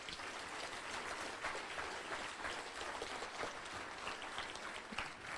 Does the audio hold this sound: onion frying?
no